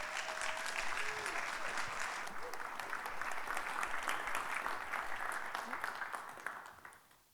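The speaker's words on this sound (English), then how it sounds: "So big round of applause, please," A conference audience at Meet Magento UK 2024 applauds steadily for the closing panel. The dense, even clapping fills the room and then fades away at the end.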